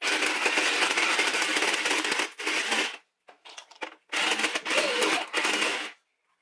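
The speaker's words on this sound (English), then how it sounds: "the ice shaver, the snow cone maker, makes it, it does shave it" An Olaf snow cone maker shaves ice, giving loud, close grinding and crunching bursts, a long run, a short break with scattered rattles, then another sustained grinding stretch.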